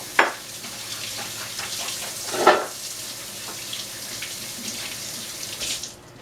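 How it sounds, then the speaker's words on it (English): Tap water runs steadily over hands at a kitchen sink while baking sugar-free brownies, a soft continuous hiss with a couple of brief louder splashes before it stops. "Now, I'm going to just quickly rinse my hands."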